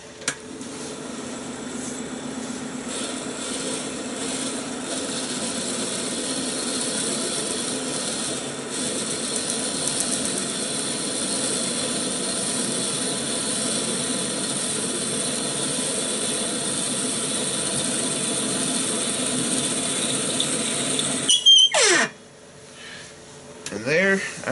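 A Jet Mini lathe drilling through a duck call blank, a continuous whining, hissing machine drone held steady for about twenty seconds before abruptly cutting off, followed by a few brief clatters.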